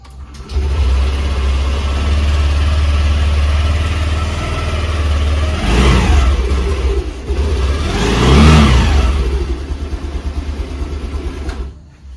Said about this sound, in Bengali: গাড়ির ইঞ্জিনের সাউন্ড যেটুকু শোনানোর দরকার সেইটুকু আমি শুনিয়ে দিলাম